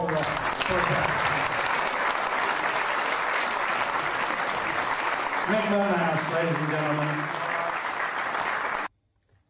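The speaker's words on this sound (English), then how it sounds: "let's give them all a big round of applause for Mick McManus" A wrestling crowd applauds in honour of wrestler Mick McManus, a dense sustained ovation lasting most of the clip, with an announcer's voice rising over it near the end before a sudden cutoff.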